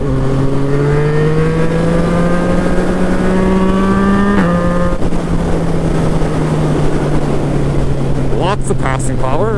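A Yamaha FZ-09 motorcycle engine pulls hard while riding, its loud droning note climbing steadily, dipping briefly at a gear change, then holding under constant wind rush.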